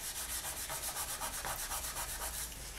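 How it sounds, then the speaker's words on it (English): Sandpaper rubbed over a cured polymer clay piece sealed with liquid clay, a steady close scratchy rasp in quick repeated back-and-forth strokes, with no voices. "So just give it a good sand, to get rid of all those little bits and pieces"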